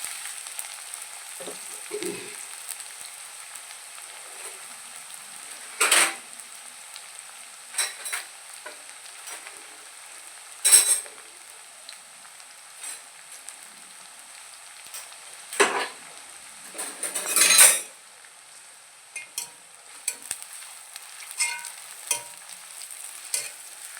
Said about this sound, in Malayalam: നല്ലോണം ഒന്ന് പൊരിച്ച് കോരിയെടുക്കട്ടെ ഉള്ളിയൊക്കെ